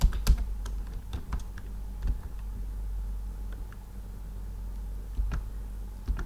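Python code typed on a computer keyboard, with scattered close key clicks over a quiet room hum, busier at the start and sparse later.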